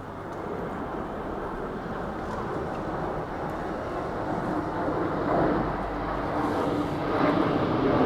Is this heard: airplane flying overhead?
yes